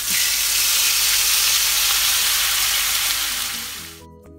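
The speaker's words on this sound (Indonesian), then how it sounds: "Tumis bumbu yang sudah dihaluskan." Loud, steady sizzling of ground spice paste stir-frying in a hot nonstick pan, hissing close up for several seconds before suddenly cutting off.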